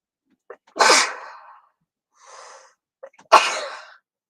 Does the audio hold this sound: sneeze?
yes